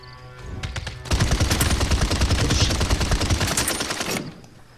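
Dense, rapid gunfire from a weapon in the video game Realm Royal, a sustained burst of several seconds that starts abruptly, rattles loud and continuous, then cuts off, leaving quieter game ambience.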